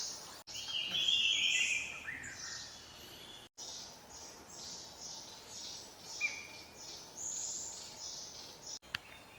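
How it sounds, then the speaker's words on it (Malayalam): A racket-tailed drongo calls in a shady evergreen forest near Munnar, its whistled notes faint and repeated over a steady hiss of insects, with no voices. "റാക്കറ്റ് ടെയിൽഡ് ഡ്രോങ്കോ എന്ന് വിളിക്കപ്പെടുന്ന ഈ പക്ഷി കാട്ടിലെ മിമിക്രി ആർട്ടിസ്റ്റ് എന്നാണ് അറിയപ്പെടുന്നത്"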